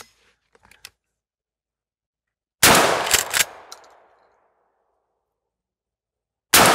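Mossberg 500 pump shotgun firing during a stress test, two loud close blasts several seconds apart, the first trailing off in a long echoing decay, with faint handling clicks before it.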